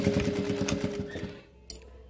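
A sewing machine stitches a fabric ruffle with a quick, even rhythmic whir of needle strokes, then slows and stops, followed by a single soft click.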